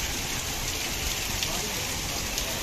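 Hailstones pelting down steadily in cold stormy weather in Faridabad, a dense continuous rattling hiss with no breaks, close and fairly loud throughout.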